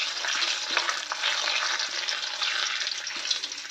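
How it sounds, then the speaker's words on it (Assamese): Papad frying in hot oil, a steady dense crackling sizzle close up with no pauses, louder bursts scattered through and no voices. "পাপৰখিনি ভাজি লওঁ প্ৰথমতে"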